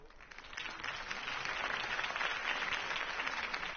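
A crowd at a city election rally applauds a campaign speech, broad and somewhat distant, swelling slightly and holding steady throughout.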